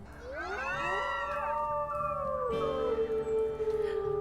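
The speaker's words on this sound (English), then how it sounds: "All the pups howling together brings me so much joy." Several wolf pups in the WolfQuest video game howl together in overlapping, rising and falling tones. The howls are close and continuous, with no talk.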